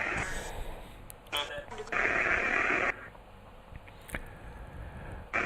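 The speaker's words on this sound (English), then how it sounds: "Some burst white noise from the DR60 sound bank, and now the Necrophonic" Broadband white noise burst from a Necrophonic synthesizer, a loud hissy wash lasting about a second amid other brief noisy synth hits.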